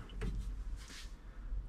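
A small glove box latch on a Unimog U1300L expedition truck clicks open inside the cab, a brief soft snap followed by a faint rustle, close and quiet.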